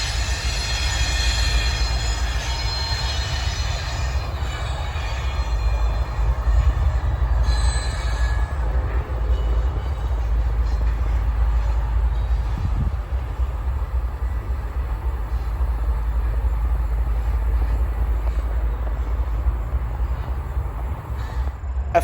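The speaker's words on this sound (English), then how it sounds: "Y103's locomotives backed past the bridge" Y103 freight locomotives back slowly past a bridge, a low steady diesel rumble dominating throughout with squealing wheels and metallic screeches in the first half, heard from a distance, while crows caw faintly nearby.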